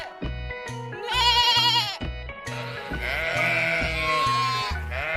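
A sheep bleats twice, a loud wavering cry followed by a longer trembling one, close and clear over a rhythmic musical backing.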